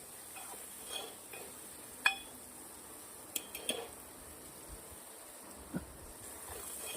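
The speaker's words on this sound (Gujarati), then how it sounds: "મરચું, મીઠું, હળદર સરસ નાખ્યા પછી આવી રીતના આપણે આને થોડી વાર આ તળશું, હલાવતા જશું" Spiced French beans and potatoes fry softly in a pan, a faint low sizzle with occasional light clinks and scrapes of a stirring spoon against the pan, no talk.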